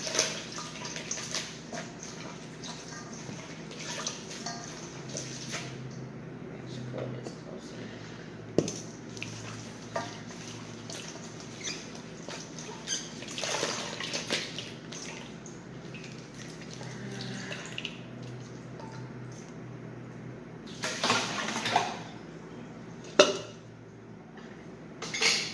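Vegan fufu dough being rinsed and broken apart by hand in water, with soft sloshing, squishing and dripping, occasional clinks of a bowl or pot, and a few louder splashes near the end, no speech.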